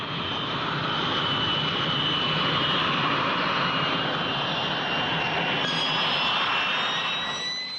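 Airplane engine droning loud and steady with a constant whine, swelling slightly as throttle is added, alone without voices.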